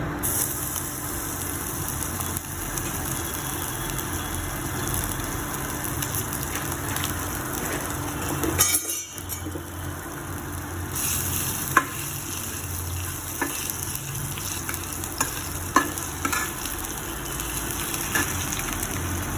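Bay leaf and ginger frying in hot oil in a pan, a continuous dense hiss like light rain with occasional faint stirring clicks and a brief dip partway through.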